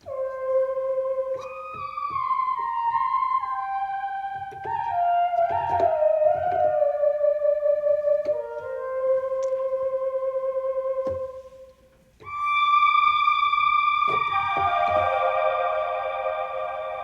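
Distant Synth preset on the Rhodes Vari-Amp plug-in: sustained synth chords shift through several changes over long reverb tails, with a brief dip before a brighter final chord rings out alone.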